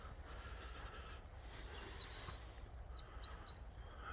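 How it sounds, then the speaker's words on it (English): Faint bird chirps and short tweets come from a distance over a steady outdoor background hum, with running water nearby. "Sound of the birds."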